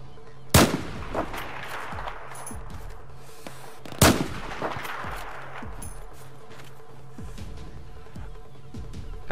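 Two loud, sharp gunshots from a Battlefield 4 firefight ring out about three seconds apart, each cracking up close over a low, rumbling battlefield background with faint scattered distant shots.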